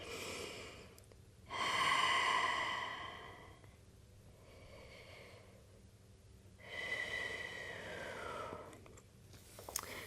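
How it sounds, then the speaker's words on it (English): Slow, deep breaths are drawn in and let out during an advanced wall Pilates workout. They are quiet and close, with two long, audible exhales about five seconds apart. "Take a couple deep breaths."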